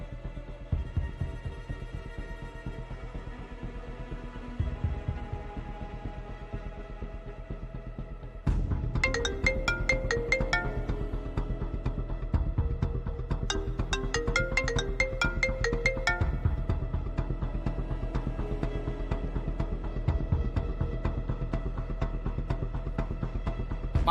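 A phone ringtone announcing an incoming call plays as a repeating electronic melody over a throbbing low hum, growing louder and busier partway through, with no talking.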